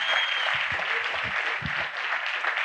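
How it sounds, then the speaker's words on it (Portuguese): A church congress audience in Guarujá, São Paulo, applauds in a dense, continuous patter of many hands that holds steady for a few seconds, with no talking over it. "Vamos dar um aplauso a Jesus?"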